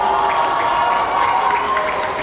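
A street crowd at Causeway Bay carol singing claps along steadily, a dense continuous patter of hands with murmuring voices and music-like tones underneath, moderately loud and close.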